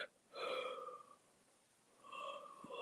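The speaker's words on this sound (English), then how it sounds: "Pause there because I had to yawn." A single drawn-out yawn, voiced and breathy, comes in two swells, the second trailing off, with no other sound around it.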